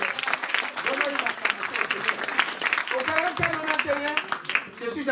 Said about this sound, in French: Oh, donnons une acclamation.